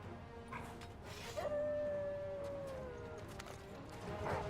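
Dogs howling in the video game Final Fantasy 16, a long wavering howl with yips and whimpers over a dense, noisy game soundscape, moderately distant.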